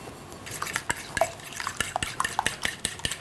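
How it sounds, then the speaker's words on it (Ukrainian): Ukrainian home cook stirring hot milk with eggs and a little sugar in a pot for custard-style pine-cone-jam ice cream, spoon or whisk clinking and scraping against the pan in steady, close, irregular taps without speech. "Щоб не утворювалися грудочки, потрібно постійно помішувати до загустіння."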